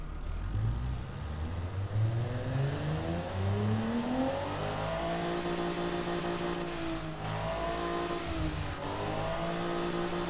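A simulated car engine on a dyno test in the game Automation revs steadily upward from idle to high rpm and then sweeps back down, its rising harmonic whine loud and continuous with no voices.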